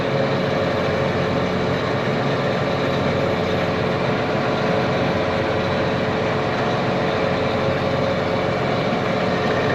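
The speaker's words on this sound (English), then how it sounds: "Tractor is in neutral, so it is rolling itself forward." A tractor engine idles in road transport mode with a steady, low, droning rumble and a faint mechanical hum, continuous and unchanging throughout, with no voices.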